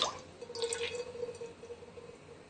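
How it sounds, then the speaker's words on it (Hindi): Ghee poured into a pan for cooking turnip sabzi, a close, soft liquid drip and trickle with a faint sustained tone, quiet and without talk. "सबसे पहले हम घी लेंगे"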